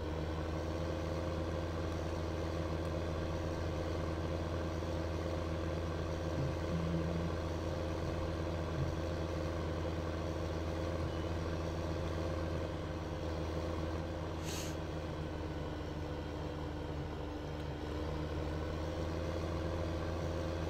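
A heavily loaded tractor engine in the Farming Simulator 2015 video game drones at a steady low idle-like pitch, continuous and unchanging throughout, with no speech over it.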